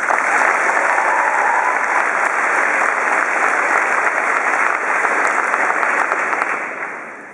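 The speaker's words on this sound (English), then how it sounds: "Why don't we give all of our family members a round of applause?" A large audience at a high school graduation claps continuously, a thick even roar of applause that stays strong for several seconds before tapering off at the end.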